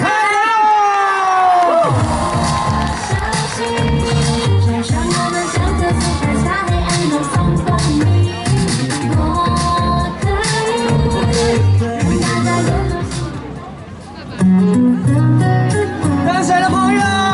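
A big outdoor New Year's Eve crowd at Tamsui Fisherman's Wharf cheers, whoops and shouts for a singer taking the stage, loud and continuous with music playing underneath, dipping briefly before swelling again near the end.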